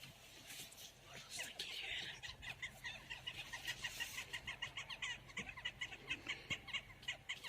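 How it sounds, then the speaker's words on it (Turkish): Chickens cluck and chatter nearby in quick, repeated bursts as they come out into a garden, growing busier toward the end, with outdoor background noise. "Ha, diğer üçüncü tavuk da çıkıyor."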